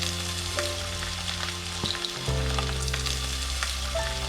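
Squid roast masala with coriander powder and Kashmiri chilli fries in a pan, giving a steady close sizzle with occasional brief scrapes and shifts in intensity, no voices.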